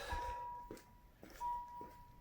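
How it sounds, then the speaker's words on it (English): A 1995 Dodge Viper sounds its chime with the headlights on, a thin steady electronic tone heard twice under faint clicks and shuffling as work goes on around the car. "Of course, you hear the chime."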